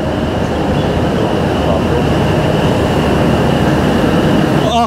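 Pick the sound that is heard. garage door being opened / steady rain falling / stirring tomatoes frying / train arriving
train arriving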